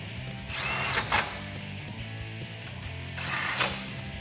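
Power tool driving factory 8mm bolts to refit heat shields on a 2011-2020 Dodge Challenger R/T, two short close whirring bursts separated by a pause.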